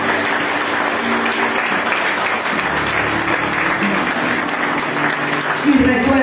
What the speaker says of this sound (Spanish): Denle un aplauso al Espíritu Santo